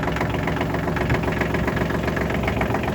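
A Kubota L1 255 tractor, a 25-horsepower machine in good condition, runs its engine at a steady close idle, a loud continuous knocking diesel rumble with no talking.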